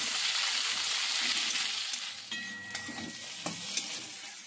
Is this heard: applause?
no